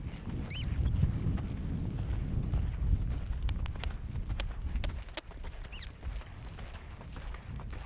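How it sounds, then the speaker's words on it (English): A young two-year-old horse lopes under saddle, its hooves drumming in a steady rolling rhythm on soft ground, with tack creaking, close by and continuous. "I'm gonna ask him to pick up the lope here a little bit."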